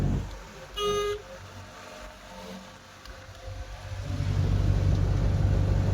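A heavily loaded car driving along a road, a low engine rumble that swells louder toward the end, with a brief horn toot near the start.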